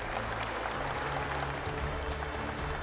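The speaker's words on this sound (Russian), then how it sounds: "Ваши аплодисменты." Steady, loud audience applause at the opening ceremony of the third All-Russian wedding festival, a dense wash of many hands clapping with a low hum of the hall underneath.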